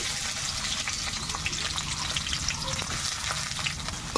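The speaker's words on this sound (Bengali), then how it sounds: "এবার আমি পেঁয়াজটাকে ভালোভাবে ভেজে নেব।" Chopped onion frying in hot mustard oil in a kadai, a dense close crackling sizzle throughout, with occasional soft stirring scrapes.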